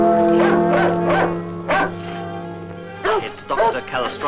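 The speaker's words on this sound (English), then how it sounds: "We'll see if that dog can move you." Dog barking in a 1958 vampire horror film's prison setting, a few distinct barks and yips in bursts rising over a steady low musical drone, with a voice speaking between them.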